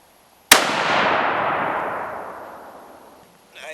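A single shot from a .308 Remington 700 SPS rifle with a factory barrel: one loud, sharp crack followed by a long, rolling echo that fades over about three seconds.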